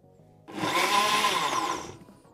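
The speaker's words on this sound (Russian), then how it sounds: "вот так блендер перемешивает не сразу за один раз все" A Bosch blender runs its automatic smoothie program, starting with a sudden loud motor whir and a churning, rattling roar. The sound holds steady for about a second and a half before winding down, with no talk over it.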